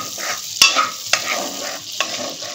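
Cardamom pods, black and green, crackling as they fry in butter for malai chicken, with a steady low sizzle and a few sharp spoon scrapes against the pan.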